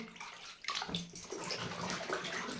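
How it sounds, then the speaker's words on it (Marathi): Potatoes sliding into a tub of clean water, with sloshing and splashing that swells after a quiet start and continues in close, busy bursts; no talking. "आता हे बटाटे काढून मी या दुसऱ्या टपामध्ये ठेवून देणार आहे या टपामध्ये मी स्वच्छ पाणी घेतले आहे"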